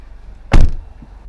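A car door is swung open once at a car wash, a single close, solid clunk with a brief rattle that fades quickly, with no talking.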